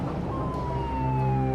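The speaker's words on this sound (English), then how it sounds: "On shore, 35 ambulances rush the wounded to nearby hospitals." An ambulance siren wails as emergency vehicles rush the wounded from a capsized ferry, a long falling tone over rumbling traffic noise, fairly close and continuous.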